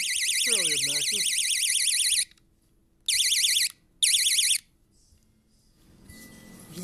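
A cheap water alarm meant for a washing machine lint filter shrills in a loud warbling electronic tone, one long burst followed by two shorter ones, with a brief voice early on and faint rustling near the end.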